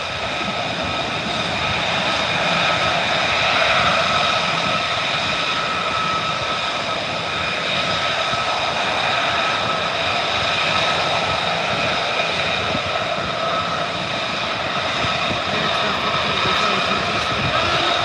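A military jet aircraft comes in to land at RAF Lakenheath, a loud, sustained engine roar with a steady whining tone filling the whole stretch, heard from nearby at the airfield.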